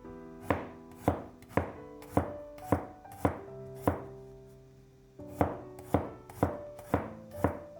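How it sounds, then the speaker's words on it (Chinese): A knife slices peeled garlic cloves on a cutting board in about a dozen sharp, evenly spaced taps with a short pause midway, close and clear with no talking. "准备几瓣大蒜，去皮后给它切成蒜片"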